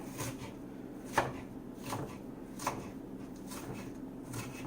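Onions being chopped with a knife on a board: a few sparse, separate knife strikes at a relaxed pace over low kitchen background noise, close and fairly quiet, with no talking.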